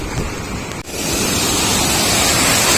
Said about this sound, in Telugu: ఇంకా అట్లానే పోతున్నాయి వాటర్. ఫోర్స్ చూడండి, సౌండ్ చూడండి ఒకసారి.